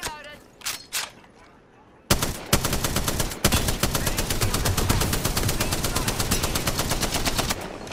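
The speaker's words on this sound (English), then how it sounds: "Open fire" Sustained automatic gunfire in the video game Apex Legends, a few brief shots and voice noises first, then a loud continuous burst of rapid rounds for about six seconds with short gaps.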